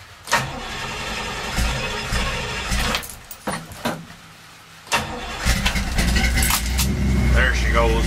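A 1966 Chevy C10 pickup with a carburetor, hot from running, cranks and catches, then settles into a rough, loud idle close by, with keys jangling and someone talking.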